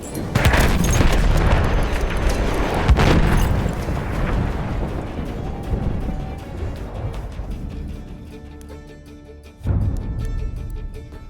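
Booming blasts from a thrown bomb tear through a World War I battle at Gallipoli's Cape Helles in Battlefield 1, loud and near, trailing into rumbling debris, followed by another sudden hit near the end.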